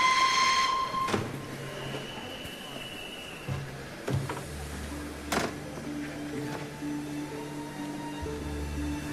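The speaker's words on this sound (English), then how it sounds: "Train is ready to depart." A departing train at a station sounds short whistle tones and steam-like bursts amid station bustle, with intermittent low rumbling and hiss, at moderate distance and fairly quiet.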